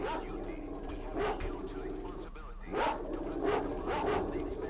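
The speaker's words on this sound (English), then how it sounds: "Dogs, mostly." Dogs bark in the video game S.T.A.L.K.E.R.: Shadow of Chernobyl, several yelping barks and whines spread across the moment at moderate distance, with someone talking over them.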